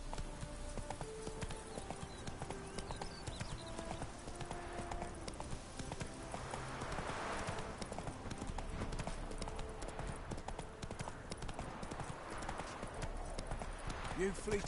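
Roach, Geralt's horse in The Witcher 3, with hooves clip-clopping at a steady gait throughout, under game music and ambience, with some voices talking in the mix.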